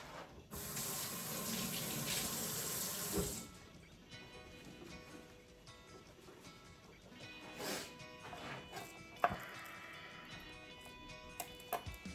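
Fingers are rinsed under a running kitchen tap, a steady loud stream of water for about three seconds, then quieter drips, sink clatter and small handling sounds follow.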